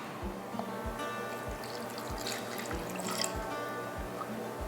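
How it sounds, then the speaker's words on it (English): Water poured into a pot of blackberries for jelly, a soft trickling stream punctuated by regular low drips and plops, close and fairly quiet with nobody talking. "We're gonna put about half a cup of water in there, just enough so that the berries cannot scorch on the bottom."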